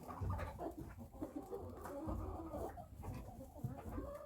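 Several chickens, with a turkey and guinea fowl nearby, cluck and murmur softly in a steady, overlapping chatter inside a coop, fairly close, with occasional sharper squawks mixed in.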